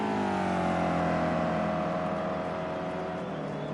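A BMW GT3 race car engine in the Project CARS 2 racing game, heard in a foggy race at Hockenheim, drones steadily and loudly with a continuous harmonic whine, its pitch easing slightly downward, with no talk.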